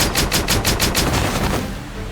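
Gunfire from an execution squad in the Octopath Traveler video game, a rapid volley of about ten sharp, loud shots in steady rhythm, then fading into a brief rumbling tail.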